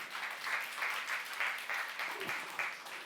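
A church youth congregation claps in a fairly even rhythm during a Korean sermon. The applause sounds moderately distant and steady, with murmured voices underneath.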